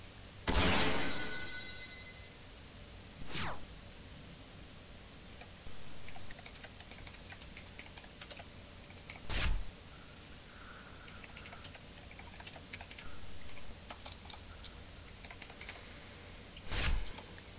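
Quiet, sporadic typing on a computer keyboard, with scattered clicks and occasional short bursts of keystrokes spread over a faint background hiss and no talking.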